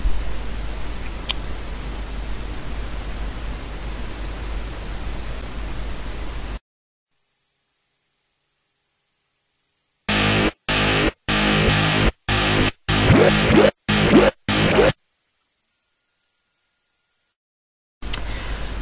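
Synth screech patch with a tweaked LFO, heard first as a long hiss-like noisy tone and then after a silence as a run of short, choppy, harsh bursts in a stuttering rhythm, loud and dry with no talk.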